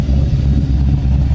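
A Nissan 240 with an LS V8 engine swap idles steadily, a loud, deep, continuous rumble close by with no other sounds over it.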